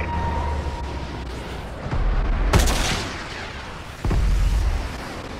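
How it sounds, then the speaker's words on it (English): Missile strikes explode in the Advanced Warfare shooter, with deep booming blasts landing about two seconds apart, the second sharp and loud, over a steady rumble of distant battle noise. "Friendly missile strikes incoming"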